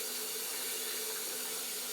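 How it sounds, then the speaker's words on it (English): Cold tap water runs into a beer glass for a quick rinse, a steady, close hiss of flowing water with no pauses or speech. "give my glass a quick cold water rinse as per usual"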